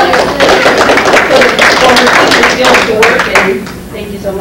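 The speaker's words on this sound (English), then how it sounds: "A round of applause for Jane." Attendees at a June community group meeting applaud in a steady, dense burst of clapping that lasts throughout, mixed with voices talking over it.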